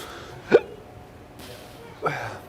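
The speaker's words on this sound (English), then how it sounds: "I have hiccups." A person hiccups twice, about one and a half seconds apart. Each is a short, sharp gulp over quiet background noise.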